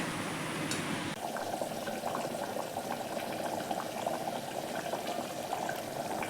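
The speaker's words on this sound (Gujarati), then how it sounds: "સરસ ઉકળી ગયું છે." Desi chana curry made without gravy, bubbling in a pot on the stove: a steady, close simmer of popping and plopping bubbles that starts after a brief noisy burst and then keeps its even, thick rhythm.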